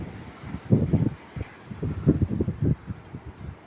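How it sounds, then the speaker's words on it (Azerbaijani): Strong gusts from a wind and rain storm buffet the microphone in loud, irregular low rumbling bursts, close and continuous, with no talking. "Bəh, külək, yağış."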